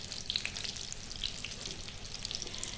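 Cauliflower florets frying in hot oil make a continuous, busy crackle with sharp little pops scattered throughout, close by and alone with no voices.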